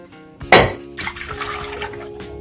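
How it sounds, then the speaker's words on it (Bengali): A peeled coconut is cracked open with one sharp crack, then its water splashes and trickles out in a kitchen while a shrimp malai curry is being made. "নারকেলটা ছাড়িয়ে নিয়েছি এবারে আমি এটা ফাটিয়ে নেব"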